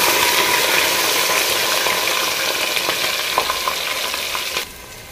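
Onions sizzle loudly in hot ghee in a pan on an indoor cylinder gas stove, with a dense, steady frying hiss up close and a few light stirring clicks before the sizzle drops off abruptly near the end.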